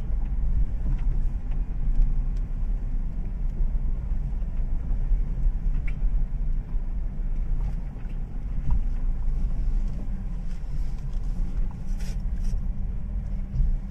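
A manual car pulls away in first gear with the clutch fully released on a driving lesson, its steady low engine rumble and road noise running continuously with some wind buffeting at the microphone.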